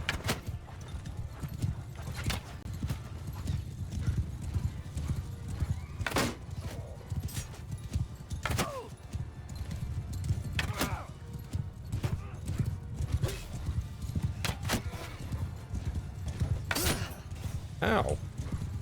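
Horse hooves clip-clop steadily through a Mount & Blade II: Bannerlord battle, with short neighs and whinnies rising now and then over a dense low rumble of fighting, while someone talks over parts of it.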